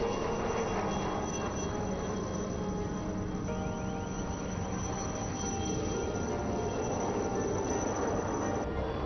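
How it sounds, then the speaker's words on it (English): A naval Chetak helicopter approaches a hijacked vessel during a naval demonstration, its steady rotor and engine roar loud and continuous throughout, with no voices over it. "The naval helicopter Chetak approaching the hijacked vessel is simulating an armed helicopter in cabin gunning role to provide air cover"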